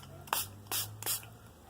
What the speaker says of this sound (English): I'm gonna spray it just on this side